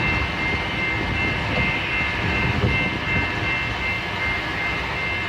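A Blacklands Railroad freight train with a manifest, heading southbound on the UP Pine Bluff Subdivision on a cold day, rumbles past as a loud, steady roar that holds throughout.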